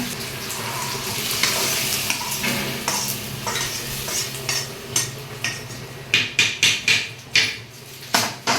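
Spices for a tempering in a bitter gourd tamarind curry sizzle in hot oil, a broad crackling hiss with scraping stirs, and a run of sharp metallic taps on the pan toward the end, close up with no talk.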